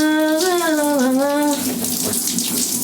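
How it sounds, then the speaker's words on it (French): Water sprayed onto hair during a hair-care treatment, a steady hissing spray under a sung or hummed voice in the first half, then continuing alone. "Regarde quand tu mets l'eau dans les cheveux."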